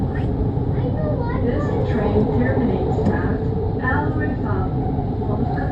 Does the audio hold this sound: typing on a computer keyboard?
no